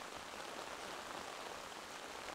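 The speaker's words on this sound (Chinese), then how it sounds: "我才刚到不久，美浓便下起大雨" Heavy downpour in Meinong, Taiwan, a thick, steady roar of rain close by with no break and no voices.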